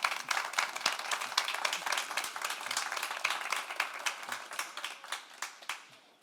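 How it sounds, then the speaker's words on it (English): An audience at a live fashion-and-technology talk claps steadily for several seconds, a dense patter of hands that thins slightly toward the end. "Round of applause, right?"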